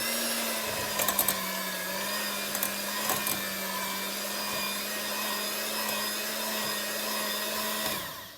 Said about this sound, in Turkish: Blender'la hafiften çırpmaya başlıyorum.